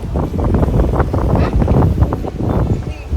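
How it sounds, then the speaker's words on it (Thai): Strong seaside wind at Khao Laem Ya national park near the Samet islands buffets the microphone in loud, gusty low rumbles that rise and fall for a few seconds. "ลมแรงมากเลยเพื่อนๆทุกคน"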